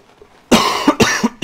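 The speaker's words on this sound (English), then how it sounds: "I would have covered my microphone because I don't like hearing people cough" A close, loud bout of three or four harsh coughs in quick succession, each burst short and explosive, with no talk around them.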